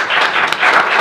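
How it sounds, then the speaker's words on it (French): A short burst of audience clapping for an author at a literary talk, close and fairly loud, lasting about a second. "Je vous propose qu'on vous applaudisse."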